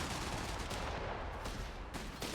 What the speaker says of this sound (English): 250 shooting at the assault grants.